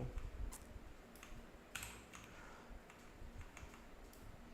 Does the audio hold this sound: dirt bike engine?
no